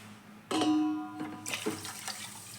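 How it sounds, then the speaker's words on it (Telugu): Two cups of water poured over two cups of sugar, heard as a brief faint splashing pour that starts suddenly and trails off into dribbles. "ఇప్పుడు ఈ 2 కప్పులు పంచదారలోకి 2 కప్పులు వాటర్ని అయితే పోసుకోవాలి"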